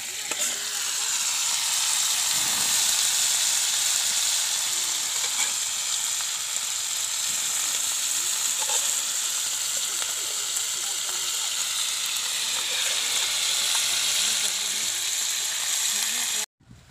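Meat sizzles and fries steadily in a pan as it is sautéed outdoors beside a river, a continuous hiss with occasional stirring and scraping, and a voice speaks briefly over it.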